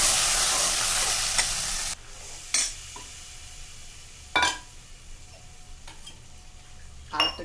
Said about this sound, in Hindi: अब हम डाल देते हैं इसमें अपना मिक्सचर, इसको जल्दी जल्दी हिला देते हैं ताकि कढ़ी फटे ना